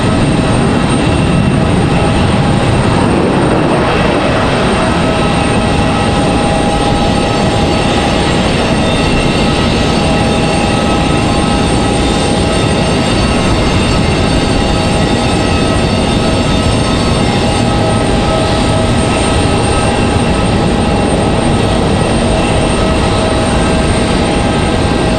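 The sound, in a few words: airliner flying at Raleigh-Durham airport, possible diverted Delta or American flight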